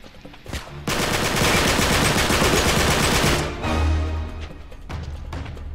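Rapid automatic AK rifle fire in the video game Uncharted 3, a dense loud burst of about three seconds followed by a few scattered single shots and faint background rumble.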